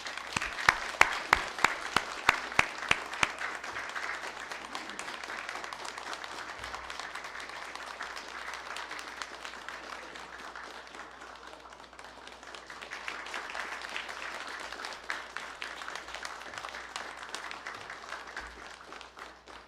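A church congregation applauds during a Sunday service, a few distinct claps at first swelling into soft, sustained clapping from a distant crowd that rises and falls in waves.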